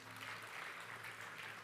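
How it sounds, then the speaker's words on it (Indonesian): A church congregation applauds during a sermon, a faint, steady, even patter of many hands clapping at a distance with no break. "Boleh kasih tepuk tangan buat Tuhan Yesus."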